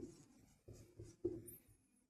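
Pen or chalk writing out a polynomial maths solution in a class 10 lesson, a quiet run of short scratchy strokes in an uneven rhythm, close and faint.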